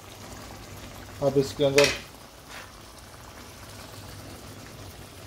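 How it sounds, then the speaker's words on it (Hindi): Chicken karahi cooks in a covered pan and releases its water, giving a soft, steady sizzle and bubble that a short spoken phrase briefly overlaps. "हाँ ये देखें, चिकन हमारा पक रहा है, पानी छोड़ना शुरू हो गया है।"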